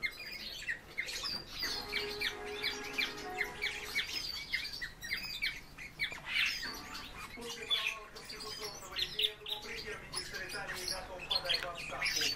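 A song thrush calls indoors in repeated squawking, chirping phrases, fairly close, with a faint background murmur throughout.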